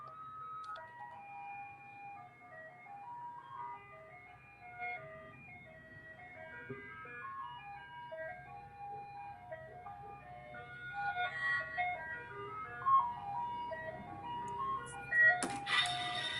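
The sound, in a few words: ice cream truck passing by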